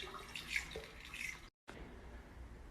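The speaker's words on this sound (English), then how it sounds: "I'm gonna take the contents of the tea and I'm gonna pour it in through this funnel, back into the gallon." Brewed tea is poured through a funnel into a gallon jug with a continuous soft splashing trickle that cuts out briefly and then resumes, close and quiet with no talk.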